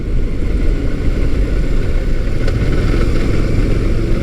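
Motus MSTR 1650cc V-4 motorcycle on a ride, its engine a steady loud drone with constant roar and wind rush throughout, no voices.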